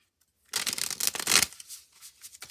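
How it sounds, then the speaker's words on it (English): Tarot cards, a Witch of the Forest deck, shuffled by hand after a short silence: a burst of close, crisp riffling and slapping for about a second, then softer trailing shuffles. "Let's just get these shuffled up."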